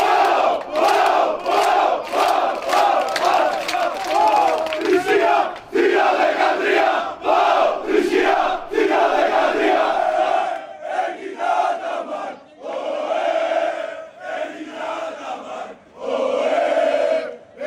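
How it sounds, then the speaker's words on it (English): Panathinaikos basketball fans chanting in Berlin ahead of a Final Four game: a loud, dense crowd sings rhythmic chants with sharp claps or shouts marking the beat, continuous and close. "So far, I can hear Panathinaikos fans already here."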